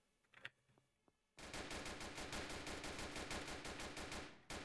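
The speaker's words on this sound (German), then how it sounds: "da ist ein SEK-Beamter, auf den schießen die." Rapid automatic gunfire erupts in a police SEK tactical video game after a few faint scattered shots, a loud continuous burst of evenly spaced rounds lasting several seconds before cutting off.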